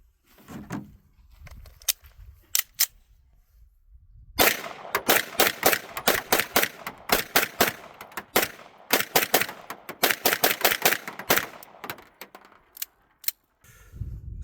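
A Springfield Prodigy double-stack 9mm 2011-style pistol, 5-inch comp model, fires a few scattered single shots, then fast strings of sharp, loud cracks in quick bursts, each cut short, with brief pauses between strings.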